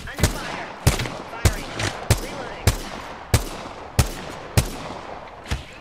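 Gunfire in the Apex Legends battle royale on PS5 arrives as about nine sharp, evenly spaced single shots roughly half a second apart, each loud crack trailing off briefly.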